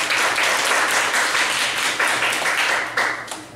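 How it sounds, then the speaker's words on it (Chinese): An audience breaks into sustained, dense applause to welcome a professor onstage at an evening talk on indigenous land co-management, the clapping loud and continuous throughout. "那我们掌声欢迎林益仁教授。"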